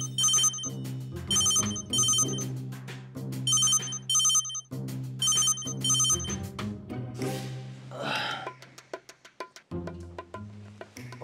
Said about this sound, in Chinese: 阿英啊，你的手机啊啦！